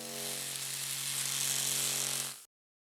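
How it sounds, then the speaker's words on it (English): A chip packet resting on a speaker cone rattles with a steady, harsh buzzing bass tone, sustained for about two and a half seconds before cutting off abruptly. "this is the chip packet on top of the speaker"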